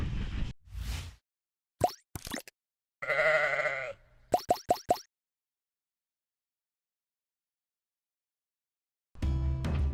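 Sheep in a farm batch awaiting scanning bleat in several short bursts and one longer call, with quiet gaps between them and some rustling noise near the end.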